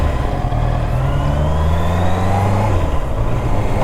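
A Honda CBR 650R motorcycle engine revs up and pulls away, its pitch climbing steadily as it accelerates, loud and close with no talking.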